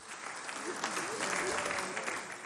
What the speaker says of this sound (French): Applaudissez pour son excellence Roger Mila